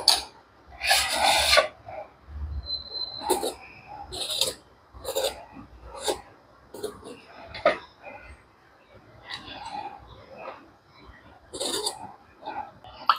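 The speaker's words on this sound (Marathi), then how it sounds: "आता सर्वात पहिले मी हे वांगं आणि दोन बटाटे सोलून आणि नंतर उभे कापून घेणार आहे" Eggplant and potatoes are being peeled by hand, close rasping scrapes that come in short, irregular strokes separated by quiet gaps.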